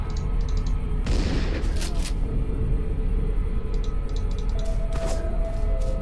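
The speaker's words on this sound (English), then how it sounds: "He fucking threw a grenade at me!" A grenade blast in the zombie survival game Dead Age, a sharp burst near the one-second mark with a booming rumble, followed by a second explosive hit around five seconds, over steady game background.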